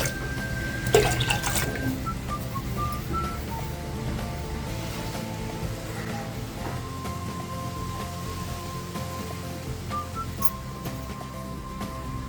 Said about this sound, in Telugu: అర లీటర్ మనం నీళ్ళు పోసుకోవాలి